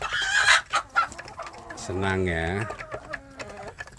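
Village free-range chickens, young birds nearly grown, clucking up close in a backyard flock, with a drawn-out crowing call in the middle and short clucks around it, while someone talks over part of it.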